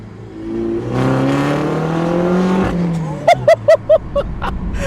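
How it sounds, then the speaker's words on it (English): A track-modified Mini Cooper hot hatch with a six-speed gearbox revs hard in a low gear, its engine note climbing loud and close, then lifts off into a quick run of five sharp pops and bangs on the overrun. "It sings when you jump on it, and the burbles on the overrun, it just pops and bangs."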